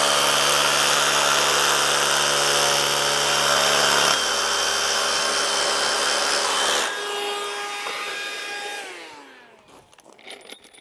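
A Makita impact driver drills into the ground while a building layout is being set out, giving a loud, steady high-pitched motor whine that drops in pitch partway through and then winds down to stop, followed by scattered clatter.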